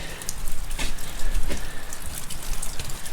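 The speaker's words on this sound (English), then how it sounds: "it's raining" Steady rain falls on a farm during spring planting, a close, continuous patter of drops striking surfaces with no voices.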